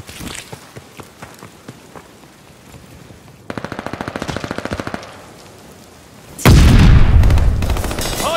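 Call of Duty: Vanguard gunfire crackles in scattered shots, then a rapid burst of automatic fire, followed by a loud, heavy barrage of sustained shooting and blasts.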